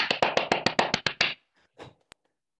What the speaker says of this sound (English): So everybody give whatever kind of round of applause you want to give for our guest